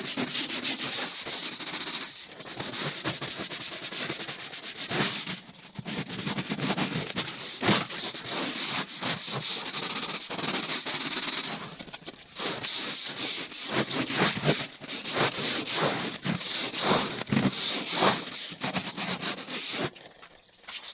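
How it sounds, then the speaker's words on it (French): A hard-bristle telescopic brush scrubs a floor with continuous close rubbing and swishing strokes that run the whole stretch with only brief breaks. "on passe à la brosse dure"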